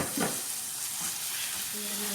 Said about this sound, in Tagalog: lalagay ko na yung manok.